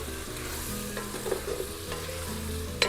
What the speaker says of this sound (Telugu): ఇప్పుడు అల్లం పేస్ట్ ఇందాక నూరు పెట్టింది ముందుగా అది వేసుకోవాలి. ఇదంతా కలుపుకొని